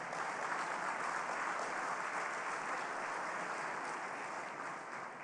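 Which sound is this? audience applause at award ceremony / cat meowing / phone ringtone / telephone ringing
audience applause at award ceremony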